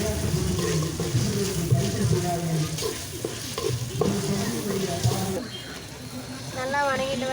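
Onion and ginger-garlic paste fry in a pan for biryani. A steady sizzle is punctuated by scraping stirs, and a person talks over the cooking throughout.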